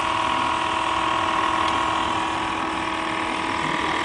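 A rotor in a load-test rig runs steadily as its load is cranked back down, giving a continuous loud mechanical hum and whine with a faint ratcheting texture, no voice over it.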